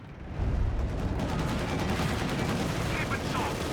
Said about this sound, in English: They're shooting at my crew.